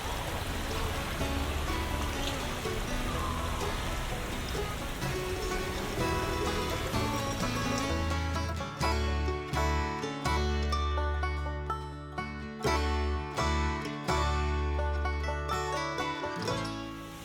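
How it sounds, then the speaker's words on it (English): A resort creek at Disney's Wilderness Lodge runs down toward the pool, a steady rushing wash of flowing water for several seconds before background music takes over. "So this is where the creek continues."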